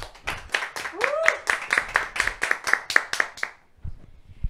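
An audience gives a short round of applause to a departing speaker at a Catholic talk show taping. The claps are sharp and rhythmic and fade out after a few seconds, with a brief voice sliding over them early on.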